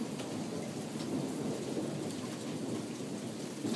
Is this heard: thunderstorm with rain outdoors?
yes